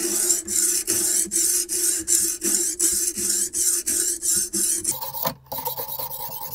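A knife blade drawn over a finer-grit whetstone on a Ruixin Pro RX-008 sharpener, making a close rasping scrape in about a dozen regular back-and-forth strokes, then a few lighter, uneven scrapes.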